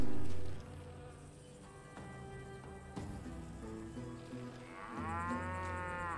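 A cow moos in the Call of Juarez Gunslinger western video game: a drawn-out lowing call with music playing underneath and a buzzing of flies, moderately loud and close.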